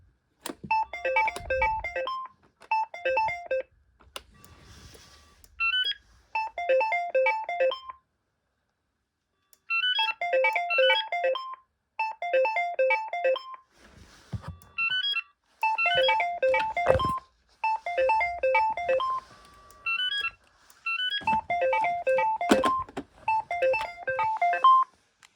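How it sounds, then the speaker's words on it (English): A BT2200 telephone rings in repeated short bursts of electronic warbling tones, grouped in pairs with brief gaps between, loud and close with no one talking. "I was expecting that to ring with the ring signal."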